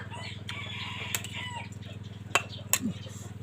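Chickens cluck and murmur in a continuous low chatter nearby, with a few sharp knocks and brief wing sounds.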